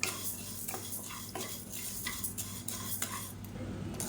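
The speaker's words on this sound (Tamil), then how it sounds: "இப்போ இது நல்லா பொன்னிறமாக வறுத்துக்கலாம்." Urad dal being dry-roasted in a pan gets stirred with a utensil, giving soft repeated scraping and rattling strokes at an irregular pace, quiet and close over a low background hum.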